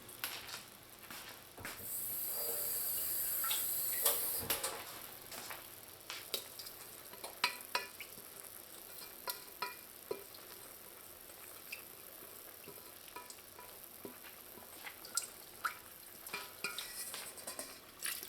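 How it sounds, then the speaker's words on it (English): Liquid hisses into a hot pot of Trinidad stewed fish, a short burst of sizzling, then a spoon stirs with quiet scraping taps and a soft, steady simmer. "So I just want to add a little bit of liquid in here"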